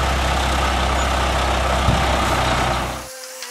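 A heavy truck delivering lifting beams idles with a loud, steady low engine rumble, then the engine cuts off abruptly near the end, leaving quiet.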